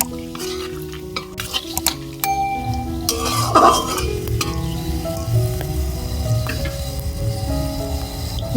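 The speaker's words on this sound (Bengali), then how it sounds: "তেলের মধ্যে গোটা গরম মশলা সামান্য একটু গোটা জিরে ফোড়ন দিয়ে দেবো" Whole garam masala and cumin seeds sizzle in hot oil in a pan, a steady crackling fry with scattered clinks and scrapes of a utensil against the cookware.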